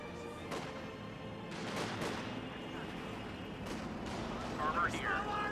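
Sherman tanks fire high-explosive cannon rounds in Company of Heroes 2, sharp booming reports scattered through a busy battlefield din, with a voice talking over the action.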